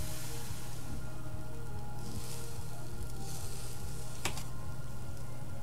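A burger patty fries on a grill in the cooking game Cook, Serve, Delicious, giving a steady, even sizzle with a single sharp click near the end.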